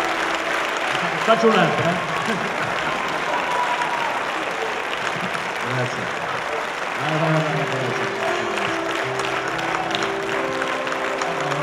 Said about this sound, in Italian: grazie per l'applauso, siete gentili e affettuosi